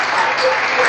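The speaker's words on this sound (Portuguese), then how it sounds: "Dê uma salva de palmas ao Senhor Jesus." A church congregation bursts into applause, a dense, loud, continuous wash of many hands clapping together at close range.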